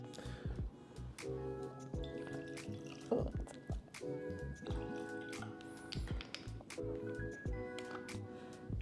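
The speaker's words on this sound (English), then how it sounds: "So let's pour these into our glasses." Bourbon whiskey from a distillery's small-batch bottlings is poured into tasting glasses in a series of soft splashes, drips and liquid clinks, close by, with no one talking.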